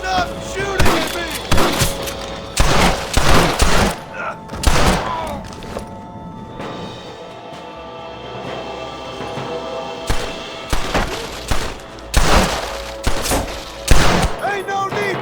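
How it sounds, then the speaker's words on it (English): A heavy gunfight in Red Dead Redemption, with loud rapid bursts of gunshots and volleys, a brief lull in the middle, then more close, booming shots, mixed with shouting voices. "I'm gonna fill you full of holes! Stop shooting at me!"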